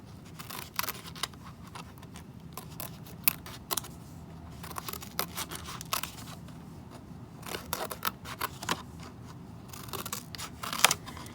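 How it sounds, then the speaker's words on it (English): Faulty scissors snip through paper in quick, uneven bursts of sharp crisp cuts, close by, with short pauses between strokes. "My scissors are not working right."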